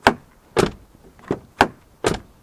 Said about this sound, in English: if I shut the door, which I didn't do properly then, there's a bit of a second rattle when that slams